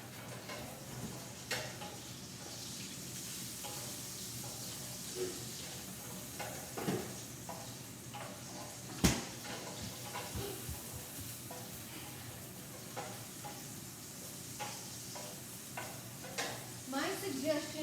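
Chicken and kale sausage meatballs fry in a pan with a steady soft sizzle and hiss, while intermittent scraping and tapping come from the meatballs being rolled and stirred around.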